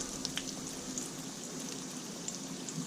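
Steady crackling sizzle of fish fingers frying in a pan, with small scattered pops over a constant hiss, fairly quiet and close.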